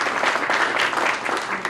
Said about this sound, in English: If we can give the mayor a round of applause.